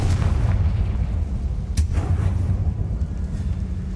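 A Confringo fire spell bursts in Hogwarts Legacy inside a tomb, a loud booming blast over a dense, rumbling low roar, with one sharper crack near the middle.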